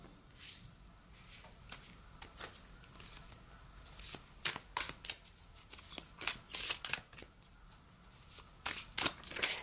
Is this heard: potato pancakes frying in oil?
no